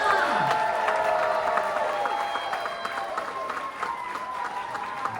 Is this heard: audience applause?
yes